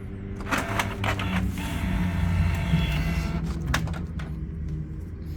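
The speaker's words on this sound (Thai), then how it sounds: "เครื่องจะทำการพิมพ์ ศูนย์ศูนย์ออกมานะครับ" A Canon G4010 inkjet printer runs through a print cycle, its motor whirring steadily with shuttling mechanical clicks and brief scraping bursts, close and alone with no talk.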